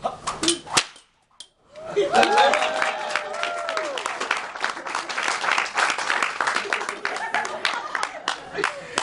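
A single sharp whip back crack lands, then after a short silence a small audience breaks into lively clapping with some cheering and laughter, close and continuous to the end.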